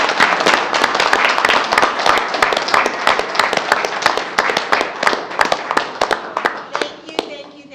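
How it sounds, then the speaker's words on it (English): Applause from the audience at a city council meeting right after a resolution is approved: dense, steady clapping from many hands, loud and close, lasting several seconds before thinning out at the end. "Can we clap?"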